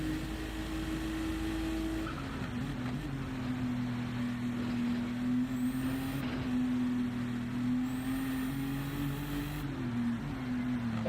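Porsche and Audi race cars at the Nürburgring 24-hour race, a steady engine drone with a sustained pitch that shifts gradually as the cars run, continuous and moderately loud with no talk.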